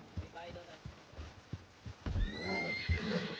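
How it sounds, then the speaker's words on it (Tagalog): A horse in a video game neighs in a long, rising whinny that cuts over soft hoof clops and thuds, with game sounds in the background. "May kabayo daw tayo, kabayo."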